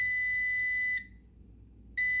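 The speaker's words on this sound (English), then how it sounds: "I don't like the beeps at all, but whatever." An air fryer beeps: a high electronic tone holds steadily, pauses for about a second, then sounds again, over a low background hum.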